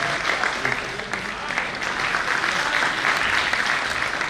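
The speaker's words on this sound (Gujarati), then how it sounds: "જોરદાર તાળીઓથી આ મનોજને વધાવો ભાઈ" An audience applauding a man named Manoj, dense continuous clapping from many hands that holds steady and loud throughout.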